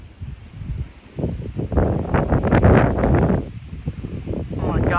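Gusty wind, around 20 mph, blows through cypress and Bradford pear trees in a Frisco, Texas yard, swelling into loud rushing and buffeting against the microphone, then easing and rising again.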